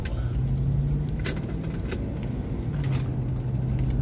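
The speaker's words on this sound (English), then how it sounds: "A little bit of traffic out today because things are open." Road traffic on a reopened day in Mary Esther near Fort Walton, Florida, with cars rolling past in a steady broadband hum, a low engine drone running throughout and brief brighter swells as vehicles pass nearby.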